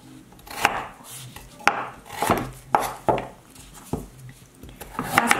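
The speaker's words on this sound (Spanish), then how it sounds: "Y la zanahoria de igual manera, miren, la voy a partir así en tirita" A knife cuts carrot into thin strips on a board, giving about ten crisp, irregular chops close by, each a sharp knock with faint scraping between.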